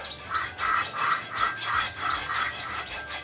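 Metal being cut through a nut and bolt seized from long use, a steady rasping saw stroke repeating about twice a second, close and fairly loud with no talk over it.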